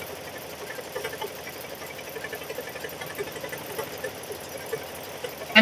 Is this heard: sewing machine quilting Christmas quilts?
yes